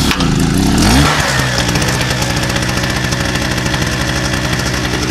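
An 800 watt small portable generator engine revs up loudly, then settles into a steady rattling idle with a regular buzzing pulse, close by.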